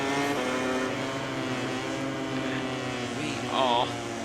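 Engine note of a MotoGP racing motorcycle in the MotoGP 20 video game, a steady high whine that climbs as the throttle slowly opens, with a brief sharper rise near the end, under talk.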